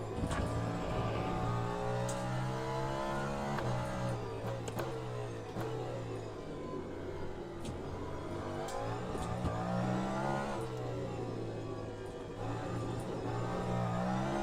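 A Cadillac V-Series.R LMDh race car laps bumpy Sebring in Le Mans Ultimate, its engine loud and continuous, revving up and down through gear changes with sharp shift clicks and a whining drivetrain, alone with no talking.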